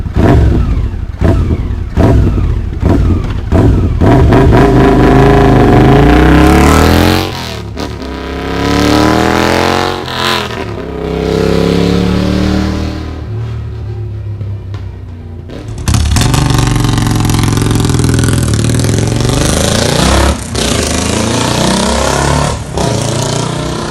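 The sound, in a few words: Royal Enfield motorcycles revving with P-Shooter exhausts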